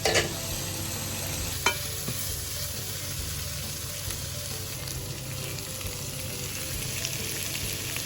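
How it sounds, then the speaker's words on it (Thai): Shrimp and garlic stir-fried in a pan, a steady sizzle and scrape of stirring running throughout with one sharp clatter near the start. "กระเทียมเริ่มเหลืองก็เดี๋ยวจะใส่กุ้งลงไปนะคะ"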